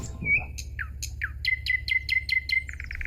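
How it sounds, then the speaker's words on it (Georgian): A goldfinch sings in a garden, a run of bright repeated chirps and short trills, fairly faint and distant, with no voices over it. "ბაღის სიღრმიდან იადონის საამური გალობა ისმოდა"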